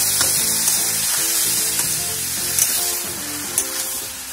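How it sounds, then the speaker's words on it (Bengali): Spices frying with banana flower and prawns in a pan while being stirred, giving a steady loud sizzle broken by occasional scraping stirs, with no talking. "এটাকে ভালোই করে নাড়তে হবে, যাকে বলে কষানো, পুরো কষাতে হবে।"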